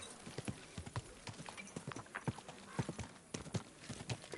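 Horse hooves clip-clop at a steady trotting rhythm in the video game Kingdom Come 2, close and distinct, with a brief whinny-like sound.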